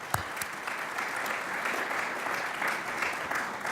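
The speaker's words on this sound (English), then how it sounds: "Can we give another round of applause to the panelists?" An audience at a budget summit conference applauds its panelists, giving a full, steady round of clapping that carries on at an even level, with a faint voice underneath.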